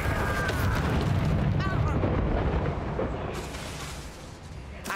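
A Confringo spell detonates in Hogwarts Legacy, a deep rumbling blast that rolls on for several seconds in a fight, thick and noisy before fading slightly at the end.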